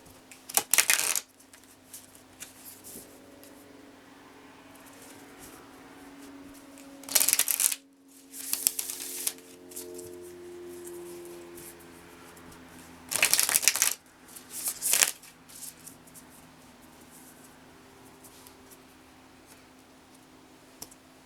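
Moonology oracle cards are shuffled close up in several short riffling bursts spread through a mostly quiet stretch, with faint tapping and handling between the bursts.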